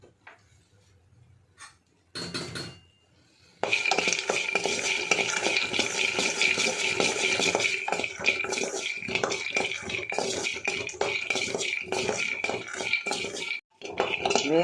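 Peanuts are dry roasted and stirred in a pan: continuous scraping and rattling of the nuts against metal, fairly close and busy, after a few short clinks at the start.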